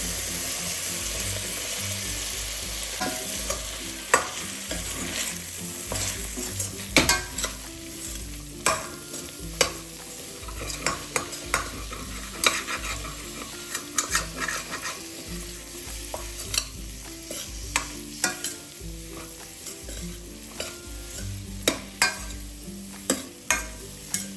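Mushrooms and green peas frying in a pan with ginger garlic paste, a steady sizzle broken by repeated scraping and clattering stirs of a spoon against the pan, close up.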